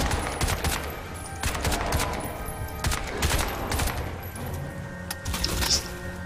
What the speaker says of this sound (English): Burst fire always works.